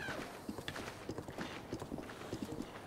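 Horse hooves clip-clopping along a path in The Legend of Zelda: Breath of the Wild, a steady trotting rhythm of soft thuds under ambient game background.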